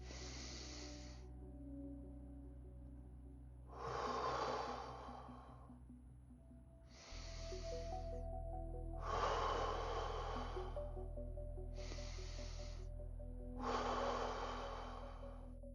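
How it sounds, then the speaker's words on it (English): Slow, deep breaths alternate close to the microphone: six long airy inhales and exhales, each lasting a couple of seconds with pauses between, over a quiet low hum, no voice. "Hold for 3 seconds in terms of inhaling, and then exhale for 3 seconds."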